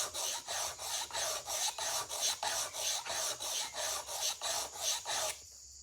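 A Sanrenmu knife is hand sharpened on Shapton ceramic stones, giving a steady rhythmic rasp of about fourteen even back-and-forth strokes, close and gritty. The stroking ends abruptly, leaving a faint hum.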